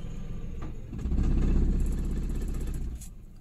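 Engine of a Suzuki DA64W non-turbo minivan with a 3-speed automatic and a no-start fault, idling with a low rumbling drone that swells briefly and then settles as the revs fall, heard close and alone.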